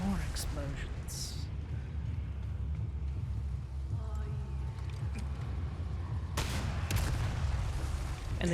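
Low rumbling booms and scattered gunshots in Resident Evil 4 Remake, with a couple of sharp bursts and a louder blast near the end.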